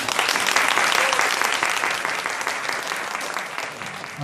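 Steady applause from a crowd at a university lecture introduction, dense clapping at constant loudness that eases slightly toward the end.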